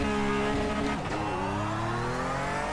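Porsche 911 Cup race car engine in iRacing held at full revs at launch, then dropping and bogging as the clutch comes out too fast, a steady loud harmonic drone with a pitch dip near the middle.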